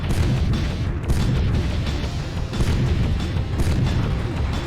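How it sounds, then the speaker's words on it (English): A tank in the N64 game BattleTanx blows up a wall. A continuous rumbling roar of explosions and tank noise stays loud and dense throughout. "Interesting, you can blow up walls."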